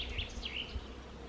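Steady buzzing of honeybees at an apiary among acacia trees fills the air as a continuous low drone with faint wavering tones above it.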